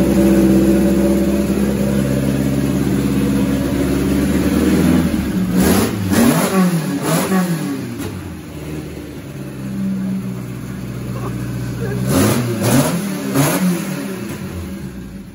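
A Datsun 510 car engine revs loudly and close, climbing through several hard, repeated throttle blips over a steady rumbling idle.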